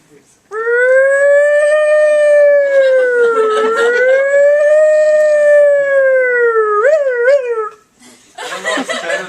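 A person's voice imitates a siren, holding a loud wailing tone that slowly rises and falls, then ends in a few quick warbles before brief laughter and other vocal noises.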